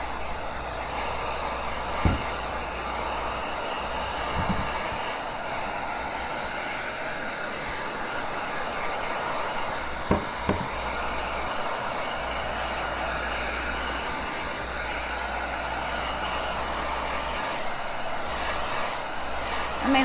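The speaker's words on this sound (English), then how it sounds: "we're going to blast it with a heat gun" A heat gun blows over freshly painted wood in a steady, loud, close rushing whoosh that continues unbroken throughout, with a few faint clicks and knocks in the background.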